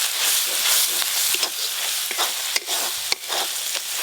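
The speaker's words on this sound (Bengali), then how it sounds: "খুব ভালো করে আদা রসুন পেঁয়াজ একসঙ্গে ভেজে নিয়েছি, এবার গুঁড়ো মশলা দেব" Ginger, garlic and onion sizzle loudly in oil in a pan as ground spices are added for a Bengali feast, with a constant bright frying hiss broken by several sharp scraping stirs of a spatula.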